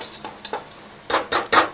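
Marinated chicken for donne biryani fries in a pan, with a brief run of soft sizzling and several scraping stirs in quick succession, close and moderately quiet.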